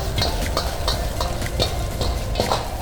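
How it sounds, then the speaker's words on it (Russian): Meat and vegetables fry in a pan with a steady, loud sizzle, broken by rhythmic scraping and stirring strokes close up. "добавляем сразу мясо с овощами. Слегка поджарим."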